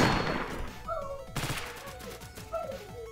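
Scope rifle fire in the Roblox game Ragdoll Mayhem, a few sharp cracking shots with short decaying tails and clinking mechanical echoes, heard close and fairly quiet alongside other game sounds.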